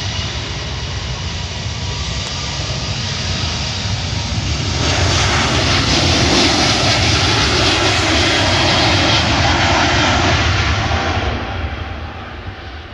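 A loud airliner engine roars steadily, swelling to a peak as the plane passes close overhead on approach to runway 10R at Fort Lauderdale-Hollywood International Airport, then fading slightly toward the end.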